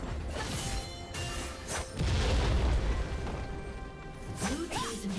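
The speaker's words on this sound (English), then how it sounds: "Blue team's turret has been destroyed." A League of Legends turret being destroyed in a game match, heavy booming crash and explosion rumble that peak in the middle, layered over busy game effects and music.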